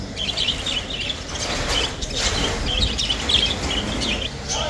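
Lovebirds chirp at the Zafaraniya bird market in Baghdad, with their high, busy calls rising over a dense, rustling market bustle.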